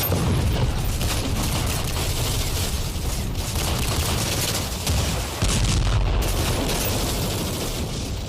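Heavy, sustained gunfire pours onto a militant camp in a commando raid, a dense and continuous roar of overlapping shots and booms that holds at a steady loudness for several seconds with no voices.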